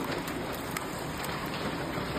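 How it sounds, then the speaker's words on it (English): Ping pong ball sized hail pouring down at night, a dense, steady broadband roar of countless impacts with no pauses, loud and continuous throughout with no voices. "you can hear the magnitude of that hail coming down last night"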